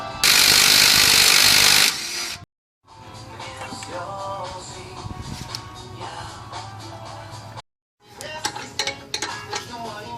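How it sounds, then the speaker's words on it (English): A 14mm socket or wrench unbolts the brake caliper on a 1999-2003 Acura TL. Close metallic clicks and clanks of the tool on the bolts come in stretches broken by brief silent gaps, with a short loud hiss at the start. "Using a 14mm socket or wrench, unbolt your brake caliper."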